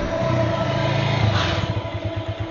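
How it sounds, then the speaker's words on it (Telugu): Motorcycle and car engines idle and rev in a road traffic jam, a close, rumbling mix with a brief acceleration swell midway and pulsing low engine throb toward the end. "ఏంటి సార్ ఇంత ట్రాఫిక్?"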